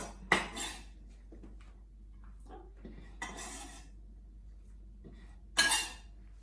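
Soaked ingredients for nems are cut in a kitchen, with a few clinking knife and dish hits and soft scraping at a moderate distance.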